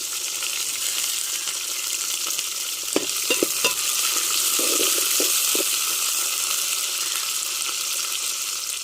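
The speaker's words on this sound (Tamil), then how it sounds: "வெட்டி வச்ச சின்ன வெங்காயத்தையும் சேர்த்துக்கிறோம் ரெண்டு பத்து மிளகா சேர்த்துக்கிறோம்" Small shallots and chilies frying in oil in a pan for a fish dish: a constant bright sizzle runs throughout, broken by a few close spoon scrapes and stirring clatters in the middle, with no voices.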